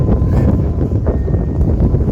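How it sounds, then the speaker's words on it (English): Steady low rumbling wind buffeting the microphone outdoors on a fishing outing, loud and continuous throughout with no other clear sounds. "Oh, damn windy."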